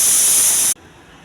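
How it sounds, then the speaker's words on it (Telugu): A pressure cooker full of dal with amaranth greens, turmeric and water lets out a loud, steady, high steam whistle that holds for most of a second, then cuts off abruptly into quiet. "పప్పు ఆకుకూర విజిల్ వస్తుందండి"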